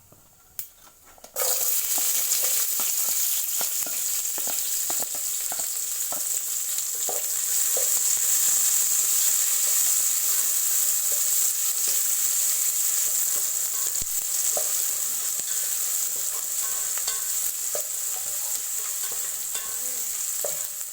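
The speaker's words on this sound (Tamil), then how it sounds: "நல்லா பொரிஞ்சதுக்கப்புறம் வெங்காயம் போட்டு வதக்கணும்" Onions sautéed in a pan after bay leaf and kalpasi have crackled in oil, a loud sizzle bursting in after a quiet start and holding steady, with a spatula scraping and tapping throughout.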